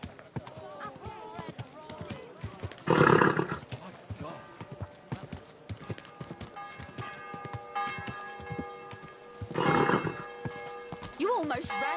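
Horse hooves clip-clop beneath ongoing talk in the medieval game Kingdom Come: Deliverance II, with two loud, brief bursts of a horse whinnying and snorting standing out above the steady footfalls.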